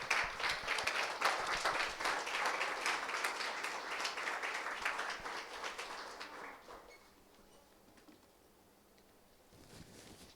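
A church congregation claps loudly and steadily for several seconds, the applause gradually thinning and dying away into quiet room tone.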